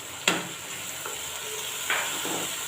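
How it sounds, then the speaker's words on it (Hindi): Spice masala with red chilli and salt stirred and fried in a pan for spicy taro, with two sharp scraping strokes of the spoon over a steady low sizzle, close and clear with no talking. "अब मैंने मसाले को अच्छी तरह भूनना है"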